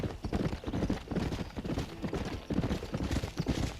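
A horse galloping in the Western video game Red Dead Redemption, rapid rhythmic hoofbeats close and loud throughout, with a brief voice partway through.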